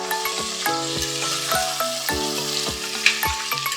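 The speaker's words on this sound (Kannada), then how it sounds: "ಚೆನ್ನಾಗಿ ಫ್ರೈ ಆಗಬೇಕು." Fenugreek leaves fry in a pan for methi pulao with a steady sizzle, broken by a quick series of sharp taps and scrapes from the spatula stirring against the pan.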